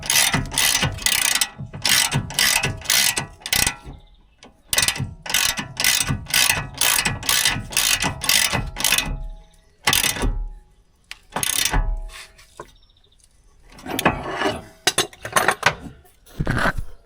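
A hand ratchet clicks in fast repeated bursts, loud and close, pausing between pulls while tightening a part on a rebuilt salvage BMW Z4.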